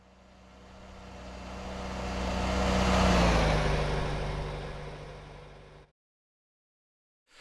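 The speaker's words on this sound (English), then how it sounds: "So this first version, we're using the sound cue version of the car loop." Looping car engine drone in Unreal Engine 5 passes by, rising steadily to a loud peak near the middle and falling away, with pitch dropping as it recedes, then cutting to silence near the end.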